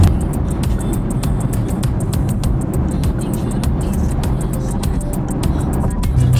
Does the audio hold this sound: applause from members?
no